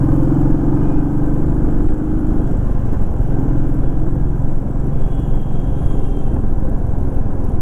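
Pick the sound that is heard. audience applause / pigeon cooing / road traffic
road traffic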